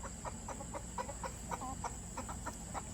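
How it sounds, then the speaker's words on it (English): Chickens cluck in a steady scatter of short, repeated calls as they are let out of a pen onto a farm, moderately near, with a constant high hum underneath and no talking. "I love watching chickens come loose from the pen."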